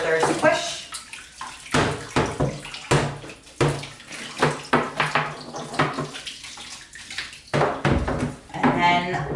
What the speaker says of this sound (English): So now I just put it in the tub, give it a little jiggle